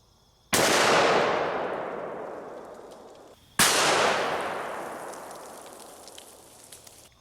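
.500 Smith & Wesson Magnum revolver firing 500-grain jacketed lead flat-nose Underwood rounds at an outdoor stone, two loud, sharp booming shots about three seconds apart, each trailing off in a long rolling echo.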